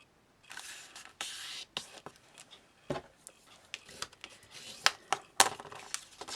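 Paper is folded along a marked line while crafting, heard up close as a series of quiet crinkles, creases and brief scraping rustles at an uneven pace.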